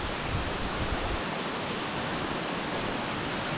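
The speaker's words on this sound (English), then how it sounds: "sa background ko yung waterfall talaga" Keaw Narok waterfall in Khao Yai, Thailand, roaring as a steady, loud, broadband wash of falling water, close and continuous with no talk over it.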